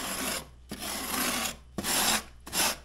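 Repeated scraping passes on a fish being prepared for cooking, a coarse raspy rubbing that comes in four long strokes separated by short pauses, close and fairly loud with no talking.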